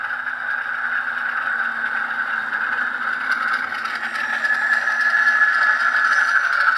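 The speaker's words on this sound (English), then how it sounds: "And there's your brake squeal." Brake squeal from a Rapido Alco/MLW FA/FB-1 model diesel locomotive sound system, heard as a steady, loud, high-pitched screech held for about seven seconds over a faint mechanical rumble.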